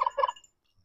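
A quick burst of clucking from nearby chickens on a homestead, several rapid notes in under half a second, followed by quiet.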